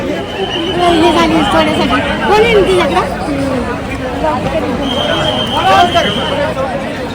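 A dense crowd of devotees at Lalbaugcha Raja forms a loud, constant babble of many voices, close and enveloping, with occasional louder calls rising above the din.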